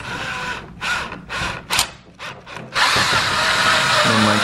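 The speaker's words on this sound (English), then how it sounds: "Slip the drill in there, and it's gonna do its thing." Power drill driving a tool into a fuel system part while fitting a Precision Raceworks 925cc MPI injector kit with a Walbro 450 pump on an MK7 Golf R. The drill buzzes in short stop-start bursts, then runs in one steady, loud stretch.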